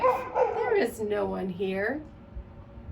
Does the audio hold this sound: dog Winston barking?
yes